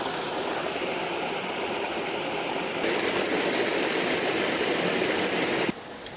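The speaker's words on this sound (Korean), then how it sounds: "폭포 소리, 물소리가" Steady rushing of a mountain stream and waterfall in a valley, loud and continuous, filling the air with broadband watery roar that briefly drops near the end.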